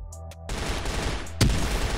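A short burst of gunfire followed by a single sharp sniper rifle shot in CrossFire, with game background noise and no talking.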